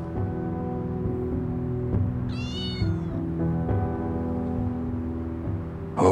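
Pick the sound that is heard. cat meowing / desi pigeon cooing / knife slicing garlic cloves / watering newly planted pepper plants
cat meowing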